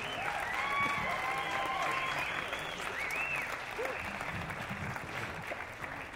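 An audience applauds a dance band at the close of a show, steady sustained clapping from a fairly distant crowd with a few whistles rising above it.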